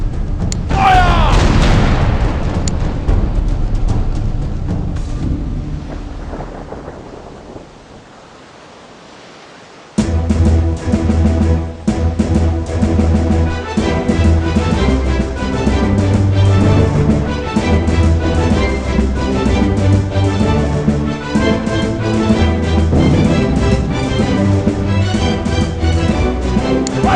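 Ship cannons firing during a naval battle video game: heavy booming blasts and rumbling thuds at first, fading to a quieter stretch, then dense continuous rumble and impacts layered with game noise, loud and close.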